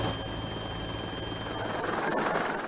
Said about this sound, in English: military helicopters like this one